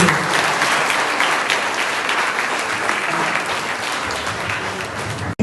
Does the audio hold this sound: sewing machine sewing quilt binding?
no